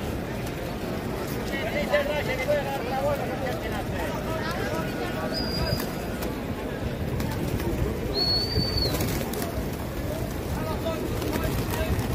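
Pigeons coo softly in a square in Mecca within a steady wash of outdoor crowd noise, with people chattering nearby and a couple of thin whistles overhead.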